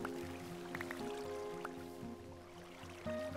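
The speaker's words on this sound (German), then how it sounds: "Ich muss natürlich erstmal eh schauen, wie das Wasser so fließt, bevor ich irgendwas mache." Water being placed and flowing in Minecraft, with soft dripping and liquid sloshing sounds over a looping background music bed, fairly quiet and without talking.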